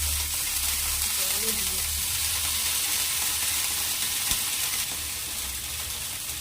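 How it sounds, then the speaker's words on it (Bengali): Water splashed onto an oil-brushed hot pan sizzles and hisses steadily while a dosa is being made, close and fairly loud, with a brief voice now and then. "রিফাইন তেলটাকে এরকম ভাবে ব্রাশ করে নিয়ে তারপরে একটু জলের ছিটা দিতে হবে।"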